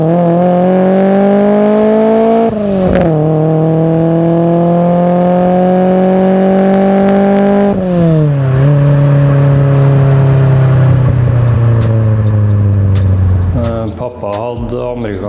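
A 1980 Fiat 131 Racing revs loud and close while driving, its engine note climbing steadily through the gears with sharp drops at each shift, then falling away near the end.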